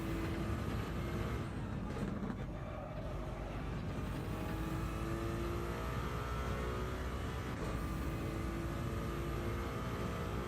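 Racing car engines drone steadily in a racing video game, a continuous mid-loud hum with tonal engine harmonics that rise and shift, with no talking.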